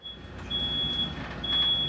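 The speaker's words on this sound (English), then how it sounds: "the smoke from the plasma cutter is setting off Dad's smoke alarm" A thin, high electronic smoke alarm tone chirps on and off over a steady low rumble indoors, set off by plasma cutter smoke.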